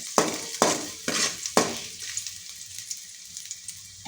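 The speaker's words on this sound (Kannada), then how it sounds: "ಇದಕ್ಕೆ ನಾವು ಶುಂಠಿಯನ್ನು ಆ್ಯಡ್ ಮಾಡಿ ಸ್ವಲ್ಪ ಹೊತ್ತು ಫ್ರೈ ಮಾಡಬೇಕಾಗುತ್ತೆ" Ginger frying in oil in a pan for street-style momo filling, with several loud stirring scrapes in the first two seconds, then a steady crackling sizzle with light clicks.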